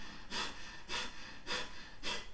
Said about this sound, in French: faire la respiration du feu